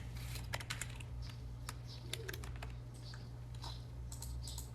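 Someone types a search query on a computer keyboard, a steady run of quick, light key clicks close by over a low constant hum, with no talk.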